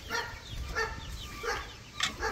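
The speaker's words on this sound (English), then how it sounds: "Got my dogs barking in the background." Several dogs bark in the background near a backyard chicken coop, with short barks and yips recurring every half second or so at moderate distance over steady outdoor noise.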